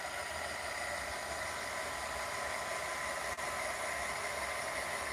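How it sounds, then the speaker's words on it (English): A handheld mini blow dryer runs steadily and close up, blowing hot air over resin in a craft project to pop surface bubbles, a constant broadband whoosh with no voices. "Is my handy dandy mini blow dryer type thing."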